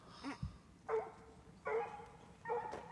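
A hound barks several times in short separate bursts while tracking a mountain lion, fairly faint and distant, with quiet pauses between.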